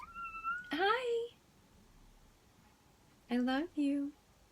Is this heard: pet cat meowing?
yes